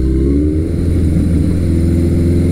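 A Suzuki GS1100L motorcycle engine accelerates smoothly, loud and close, its deep, throbbing note rising slightly in pitch across a few seconds with no voices over it.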